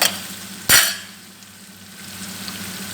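Onion, garlic and green chili frying in a pan, a soft continuous sizzle with one sharp scraping burst from a stirring utensil early on, close and with no voices.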